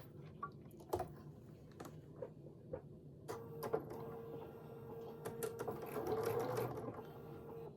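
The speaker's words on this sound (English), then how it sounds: "So I can go ahead and sew those in now." A sewing machine stitches rows of a small appliqué wall-hanging quilt, close and fairly quiet, with scattered clicks and taps at first, then a continuous humming run of stitching.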